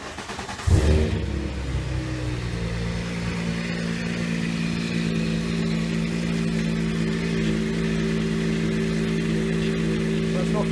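A custom car engine not yet turbocharged starts abruptly, then settles into a loud, steady rumble that holds near and continuous.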